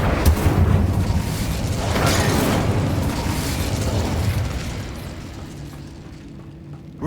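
Incendio fire spell exploding in Hogwarts Legacy, a loud, dense, roaring burst that rumbles on for several seconds before slowly fading away, with no talk.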